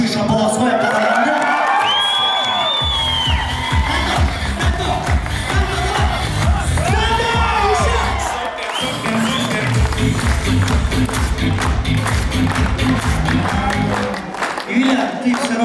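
Party crowd at a banquet hosted by a toastmaster in Astana, clapping rhythmically and cheering with whoops, while voices call out and talk over the applause.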